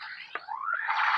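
A Ghostbusters mini ghost trap toy sounds off with an electronic effect: a short sweep, a sharp click, then a rising warbling tone that swells louder toward the end, heard alone.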